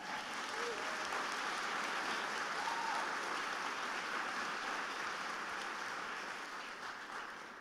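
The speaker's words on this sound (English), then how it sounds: "You were a little slow on that applause." Sustained audience applause at an afternoon event at Crystal Bridges fills the room, dense and steady throughout with a slight fade near the end, and a couple of faint voices surface briefly over the clapping.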